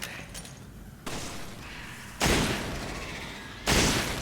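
Loud gunshots fire in a video game, two sharp broadband blasts about a second and a half apart over a steady game background, with no talking.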